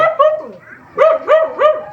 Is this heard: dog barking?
yes